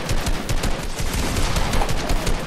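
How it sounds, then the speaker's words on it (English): Fortnite gunfire in a continuous rapid burst, loud and close, with fast repeated shots filling the whole moment and no talk over it. "Oh, he's trying to shoot me."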